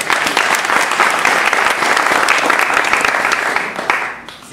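Audience applause at a live music appreciation-day show, a dense burst of clapping from a sizeable crowd that holds steady for about four seconds before fading out.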